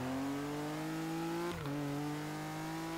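Buzzy two-cylinder engine of a 2012 Hot Wheels Rip Rod in Forza Horizon 3 revving steadily, with a brief dip as it shifts gear before climbing again; no one speaks.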